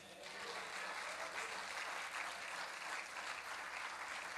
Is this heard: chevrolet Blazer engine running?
no